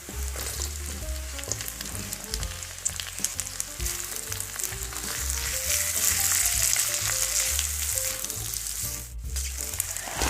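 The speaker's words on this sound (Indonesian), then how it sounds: "Tumis hingga bumbunya wangi dan sedikit layu." Spices with green and red chili peppers sautéing in a pan, giving a steady close sizzle and crackle, with occasional stirring scrapes and no talk.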